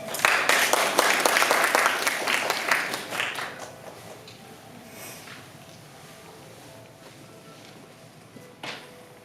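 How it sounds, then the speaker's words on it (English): Welcoming applause for a tea master at a Korean tea ceremony held at a botanic garden, a crowd clapping loudly at first, then thinning and fading to scattered claps and quiet room noise. "Can we please give a welcoming applause to Tea Master Se-ryun-chun."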